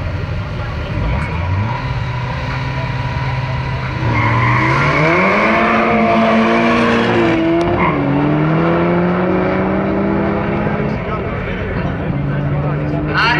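Golf 5 GTI race car accelerating hard through gear changes, engine note rising and dropping with each shift and some tire squeal, loud and close, with a commentator talking over it throughout.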